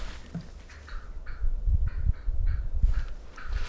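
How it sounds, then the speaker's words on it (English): A Merriam's wild turkey gobbler calls from a ridge on Utah public land, several quick rattling gobble bursts in succession, distant and moderately faint over a low rumbling background. "The gobbler's up the ridge to my left."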